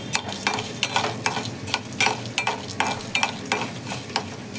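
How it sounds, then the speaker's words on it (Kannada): Coriander seeds, fenugreek, cumin, urad dal and chana dal fry in oil on low flame for a Mangalore-style tondekai sukka, a steady sizzle broken by rhythmic scraping stirs roughly every half second, close and clear with no voices. "ಆಮೇಲೆ ಅದಕ್ಕೆ ಧನಿಯಾ ಬೀಜ, ಮೆಂತ್ಯ, ಜೀರಿಗೆ, ಉದ್ದಿನಬೇಳೆ, ಕಡಲೆಬೇಳೆ ಇದನ್ನೆಲ್ಲ ಹಾಕ್ಬಿಟ್ಟು ಲೋ ಫ್ಲೇಮಲ್ಲಿ ಇಟ್ಕೊಂಡು ನಾನು ಚೆನ್ನಾಗಿ ಫ್ರೈ ಮಾಡ್ಕೊತೀನಿ ಇದನ್ನು."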